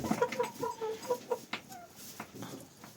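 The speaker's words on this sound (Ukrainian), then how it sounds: "Та кури." Chickens cluck close by in quick, choppy bursts, several birds overlapping, with a few louder squawks mixed in.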